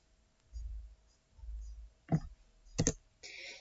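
A computer mouse gives two quick, close clicks in a row over a soft background hum, followed by a brief rustle.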